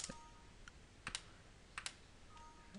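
Typing on a computer keyboard, quiet scattered key clicks in small irregular clusters over a faint background hiss, with no talking.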